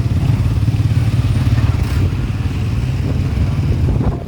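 A motorcycle engine runs loud and close for the whole stretch, with a steady low rumble and some clatter on a hot, sunny street.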